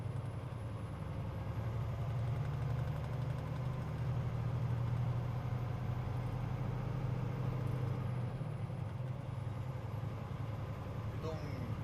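A Peterbilt truck's large diesel engine idles steadily with a deep, continuous low rumble, close and constant throughout.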